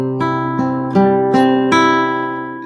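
Fingerpicked acoustic guitar playing a steady accompaniment pattern, a bass note followed by plucked treble notes in an even repeating rhythm, close and clear with no voices.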